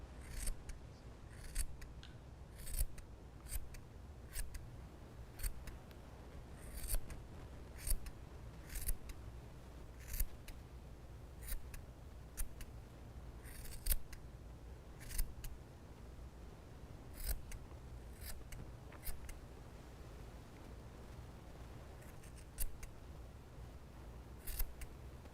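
Scissors trimming a small yarn pom-pom for a heart-shaped Valentine's decoration, producing a steady series of crisp, close snips spaced a second or so apart over a faint background hiss.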